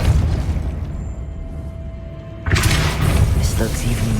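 Depulso force spell in the Hogwarts Legacy video game, a sudden broadband blast that bursts in about halfway through and holds loud and full, over a low rumbling game soundscape with a voice speaking.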